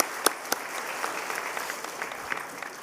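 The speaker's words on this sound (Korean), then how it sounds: "우리 이로와 격려의 박수 우리 함께 드리겠습니다" Congregation in a church gives a round of encouraging applause, steady dense clapping with a few sharp claps standing out, moderately near.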